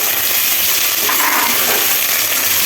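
Jute leaves frying in hot oil, a steady bright sizzle and hiss that stays loud and close from start to finish, with no voices over it.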